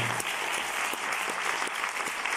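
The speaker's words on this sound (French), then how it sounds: "Donc oui, vous pouvez les applaudir ici au César." Sustained applause from a cinema audience at a film premiere, dense even clapping filling the room throughout with no break.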